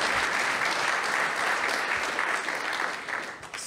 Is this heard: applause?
yes